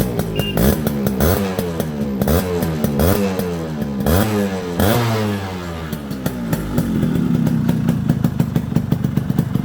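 A Yamaha RX 100 motorcycle's two-stroke engine, freshly rebuilt with new connecting rod, bearings, rings and piston, runs close and loud, revving up and down repeatedly before settling into a fast, rattling idle.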